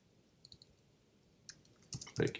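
Computer mouse clicks while working on a presentation slide, a few soft clicks early, then sharper, louder clicks near the end, with quiet room tone between.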